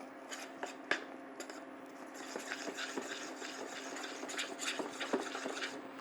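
A spoon stirs spiced sugar with anise seed and salt as it melts in a pan, producing a soft continuous scraping and clinking that runs steadily and faintly, with no talk.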